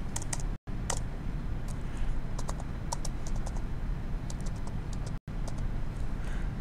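Keys clatter on a computer keyboard in quick irregular bursts of light clicks and taps, close and fairly clear over a steady background hum, with no talking.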